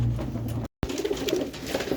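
Soft, low pigeon coos repeat in a steady murmur, briefly cut by a moment of silence, then resuming close by.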